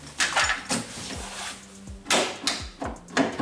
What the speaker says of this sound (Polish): Drzwi się otworzyły.